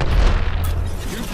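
A weapon firing in Apex Legends, a heavy, deep boom that rumbles at close range and fades out within a second or so amid game noise.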